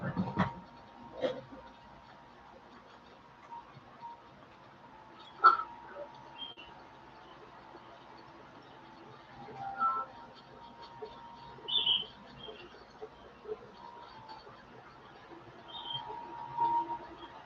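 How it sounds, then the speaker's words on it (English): Faint, sparse bird chirps and short calls in Zelda: Breath of the Wild, scattered high notes over a quiet ambient background with a few soft thumps. "You hear those birds?"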